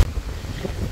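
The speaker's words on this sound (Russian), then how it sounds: "Здесь уже ветер." Wind blows at a beach in Fethiye, Turkey, in a brief burst of loud, low rumbling gusts buffeting the microphone.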